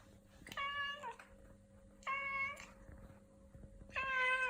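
A cat named Poupon meows three times at steady intervals, each call clear, close and fairly loud, with a quiet room behind.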